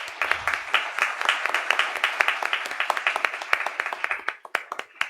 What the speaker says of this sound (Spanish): Nos despedimos entonces de Rolando y Omar con un fuerte aplauso